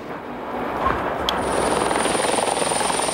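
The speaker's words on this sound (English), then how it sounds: "Like clockwork, every 5 minutes a helicopter lands, bringing refugees from the flood." A rescue helicopter carrying flood refugees comes in to land. Its loud, close rotor thumps and engine whine build and grow steadier, with no voices heard.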